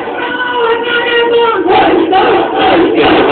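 Party workers of Altaf Hussain's movement, among them many women, chant slogans in a loud, dense crowd roar of rhythmic shouting voices that swells and repeats throughout.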